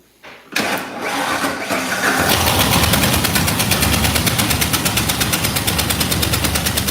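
A truck engine cranks briefly and catches, then runs loudly and close with a steady, slightly rough pulsing idle throughout.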